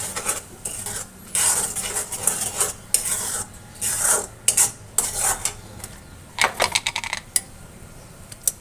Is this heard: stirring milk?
yes